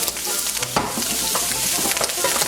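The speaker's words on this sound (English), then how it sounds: "Let's cook those shrimps." Shrimp for fried rice sizzle and crackle steadily in a hot pan, a loud, continuous frying hiss with occasional stirring scrapes, close up and without talk.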